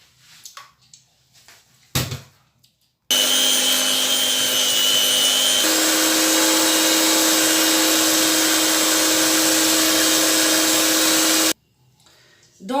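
An electric mixer beats eggs in a bowl for a birthday cake, starting abruptly with a loud high whine that shifts to a faster setting midway, runs steadily for about eight seconds, then stops amid light clinks.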